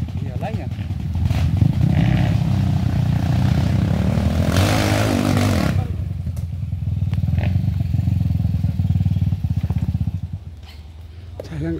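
A motorcycle climbing a steep uphill road, its engine droning loudly and steadily, surging and straining in the middle, with people talking over it.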